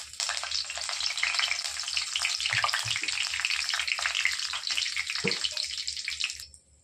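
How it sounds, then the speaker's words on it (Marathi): Cumin seeds and curry leaves hit hot oil in a pan, giving a loud, continuous crackling sizzle that holds steady before cutting off near the end. "तेल गरम झालं दोन ते तीन पळे तेल टाकले मी आता टाकत आहोत आपण जिरे कढीपत्ता"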